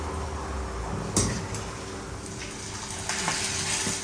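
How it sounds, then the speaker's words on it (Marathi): Green chillies fry in a pan with a steady close hiss and sizzle, broken by a few sharp crackles and the clatter of a utensil against the pan, with no talk. "मिरच्या फ्राय करणार"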